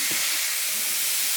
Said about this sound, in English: I like to add my onions while the hamburger meat is still browning.